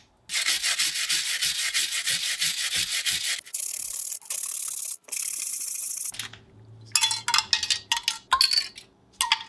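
A Victorinox Swiss Army knife blade is sharpened with repeated close, rhythmic rasping strokes, followed by longer continuous scraping passes and a few sharper, irregular scrapes at the end.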